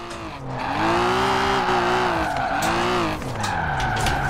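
A 1988 BMW M5's engine roars in a racing video game as tires squeal through a long power slide, the screech wavering in pitch, loud and close.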